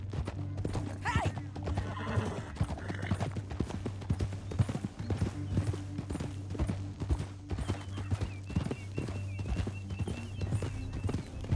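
Rapid hoofbeats of a galloping horse in Red Dead Redemption 2 clatter steadily over a low droning music bed, with a brief whinny early on; no talking.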